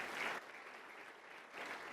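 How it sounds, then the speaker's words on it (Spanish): A church congregation applauds during a Spanish-language worship service, a soft, distant wash of clapping that swells, eases for a moment and rises again, with no talk over it. "Aplausos al Rey de Reyes y Señor de Señores"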